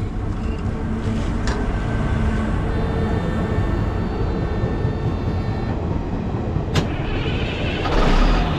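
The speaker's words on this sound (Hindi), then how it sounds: "स्टार्ट कर दिया ग्रेडर।" A Caterpillar motor grader's diesel engine runs with a steady, loud low rumble and droning hum throughout, with a brief sharp click near the end and no voices.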